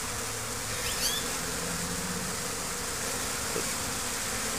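Bees buzz continuously around a hive entrance, a dense close hum with individual insects flying past, and no voices.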